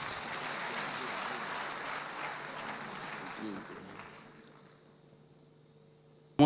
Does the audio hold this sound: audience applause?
yes